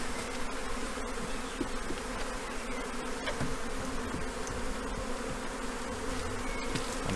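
Honey bees from a Jubilee swarm buzz steadily around an open hive, a dense, continuous hum at close range with soft scrapes and knocks of handling, no talk.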